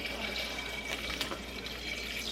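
Cold tap water runs steadily into a dog's new water bowl, a continuous close splashing flow with no voices over it.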